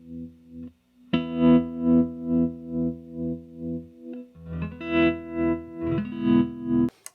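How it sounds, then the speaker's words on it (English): Electric guitar played through a Fulltone Supa-Trem2 tremolo pedal in sine wave mode, its sustained chords pulsing in smooth, regular swells of volume, loud and close with no talking. "pure, clean sine wave."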